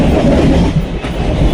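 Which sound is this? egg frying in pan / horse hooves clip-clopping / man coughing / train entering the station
train entering the station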